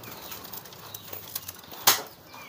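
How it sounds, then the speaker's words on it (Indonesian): Pigeons being let out of their loft give one sudden, brief burst of wing flapping, close and fairly loud against quiet background hiss. "Bentar, saya keluarin dulu merpati-merpatinya nih"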